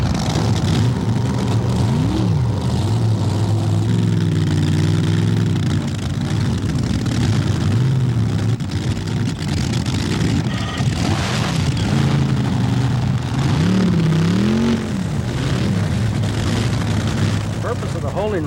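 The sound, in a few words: racing drag boat engine roaring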